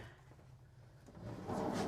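Storage drawers sliding open in the bedroom of a 2023 Newmar New Aire 3543 motorhome, soft-close drawers giving a low rumbling glide that swells louder near the end, with no talking.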